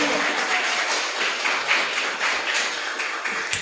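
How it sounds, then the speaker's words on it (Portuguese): Church congregation applauding: a steady, dense wash of many hands clapping at moderate distance, continuous throughout with no talking. "Você pode aplaudir mais uma vez o Senhor Jesus"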